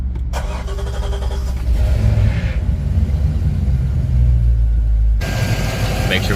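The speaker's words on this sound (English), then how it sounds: "Let's fire it up." A Volvo Penta boat engine on a Regal is started dry and runs as a loud, steady low rumble, with a voice speaking over it.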